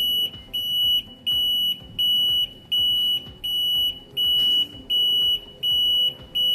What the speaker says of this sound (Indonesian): buzzer yang putus-putus ini, jedanya itu semakin besar sesuai dengan tegangan yang kita berikan